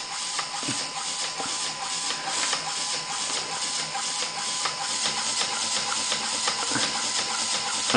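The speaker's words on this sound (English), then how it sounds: "when I put the motor online again, the compressor slows down remarkably" A small fischertechnik pneumatic compressor labours while a motor also runs, a steady mechanical whir with rapid ticking pulses and occasional clicks, close and continuous.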